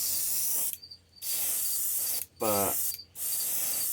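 Aerosol spray paint being sprayed onto a 1966 Mustang for racing stripes: three long, close, loud hissing bursts separated by short pauses, with a brief spoken word in one gap.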